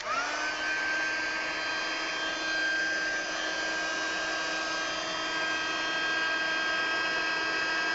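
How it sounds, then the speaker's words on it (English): Heat tool for melting embossing powder on a stamped card, blowing with a steady whirring hum and a high motor whine that holds constant from start to end, alone and fairly close. "we're going to take our heat tool and do a little bit of embossing here"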